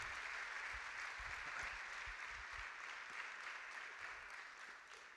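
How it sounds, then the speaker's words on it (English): Applause for graduating seniors at a school awards ceremony, a steady wash of clapping from a crowd that holds for several seconds and then slowly tapers off. "If we could give these fine graduating seniors a big round of applause."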